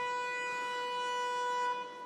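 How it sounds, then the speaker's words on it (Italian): A basketball arena siren blares as one loud, steady, buzzy tone at a Treviso versus Alcamo game. It holds for nearly two seconds, then dips and tails off, with no voices over it. "Adesso suona la sirena,"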